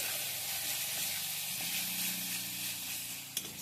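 Ground spice paste sautéing in a pan for a flat bean dish, giving a steady hiss and sizzle throughout, faint and even, with a single brief clink near the end.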